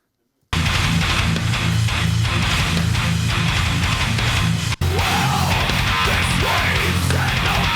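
A track plays loud and dense, a heavy metal track with thick low chugging riffs and drums, starting abruptly after a brief silence and running steadily with a momentary dropout.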